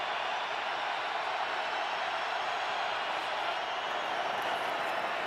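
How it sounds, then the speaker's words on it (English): Stadium crowd at an NFL game, Packers at Steelers, roaring in a loud, steady broadband wash that holds unbroken throughout, with no distinct claps or voices standing out. "Crowd in full throat."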